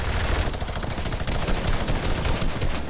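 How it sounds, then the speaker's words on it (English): Video game gunfire pours out as continuous rapid automatic shooting, dense and loud throughout the short stretch, with no talking. "Oh, they're shooting at me too."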